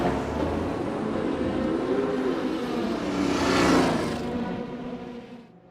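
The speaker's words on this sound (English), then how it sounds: "We start the car back up, drop into first gear, and take off." A 2016 Ford GT race car at Le Mans pulls away from a pit stop in first gear, its engine rising in pitch as it accelerates and then fading as it moves off.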